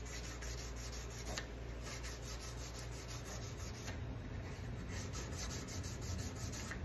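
A diamond grit fret file rubs back and forth over the frets of a Les Paul guitar, making quiet, close, rhythmic scraping strokes at an even pace.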